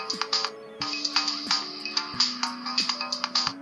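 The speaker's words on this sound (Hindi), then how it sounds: "वॉच में रिंगटोन भी बजता है और अलार्म के टाइम भी यही म्यूजिक बजता है" A boAt Wave Call 2 Plus smartwatch plays its built-in ringtone, also used as its alarm tune: a bright, repeating electronic melody of short plucked notes in a steady looping rhythm, close and clear with no talk.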